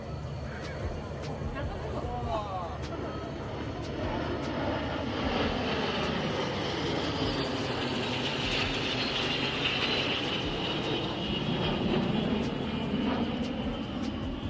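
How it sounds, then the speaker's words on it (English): A large turboprop flying boat of about 53 to 54 tons passes at a military airshow in China, its steady engine roar loud and sustained with a slowly shifting pitch, while a voice talks over it. "it's one of the largest flying boats around"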